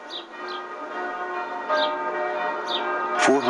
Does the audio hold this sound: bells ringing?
yes